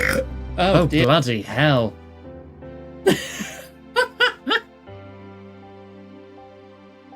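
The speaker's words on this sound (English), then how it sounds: "That's like a freaking cartoon burp right there." A loud cartoon burp sound effect from the video game Ghost Trick, three or four short bursts played back in a row, with someone talking just before and reacting around it.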